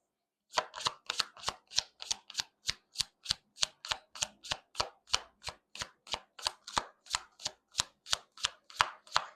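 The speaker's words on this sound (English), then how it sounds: "I want to shuffle each card." Steady rhythmic slapping of tarot cards being shuffled, about three crisp taps per second repeating evenly, close up with no voices.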